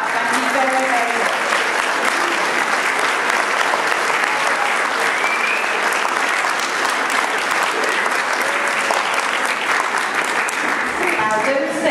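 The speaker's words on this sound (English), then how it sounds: "I do think our musical team deserve one last huge clap" Audience at a school nativity at St Oswald's RC School in Longton gives a long, loud, sustained round of clapping that fills the hall, with a few voices mixed in.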